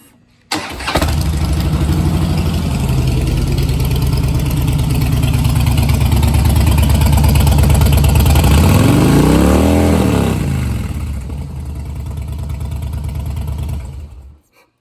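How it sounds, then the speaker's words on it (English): A 2011 Harley-Davidson Softail Blackline fitted with Vance and Hines exhaust pipes starts up close and loud, settles into a deep lumpy idle, rises in one rev and falls back before shutting off. "Those are the Vance and Hines pipes you just heard."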